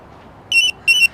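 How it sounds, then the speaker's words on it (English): A Pebblebee tracker beeps twice as it wakes, two short, bright, shrill electronic tones about a third of a second apart, loud and close over a quiet background. "when you hear 2 beeps, that means it's now actually broadcasting"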